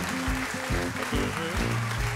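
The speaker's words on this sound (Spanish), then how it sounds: "Así que dense un aplauso, por favor." A short burst of applause for a subscriber milestone, fairly close and steady, with voices talking over the clapping throughout.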